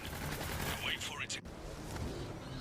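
Gunfire from the video game The Darkside Detective: a short burst of shots with a sharp crack around the middle, over a busy game-sound bed with a voice present.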